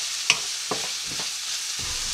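Paprika and carrot frying in a pan give a steady close sizzle, while a spoon stirs through them with a few soft scraping knocks and one sharp clink.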